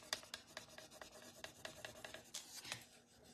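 Rice paper is rubbed down by hand during decoupage, giving soft, quick, repeated scratchy strokes, close and very faint, with no voices.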